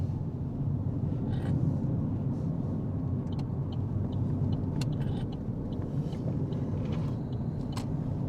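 A car driving along a road, heard from inside the cabin as a steady, low, continuous rumble with faint scattered clicks and no voices.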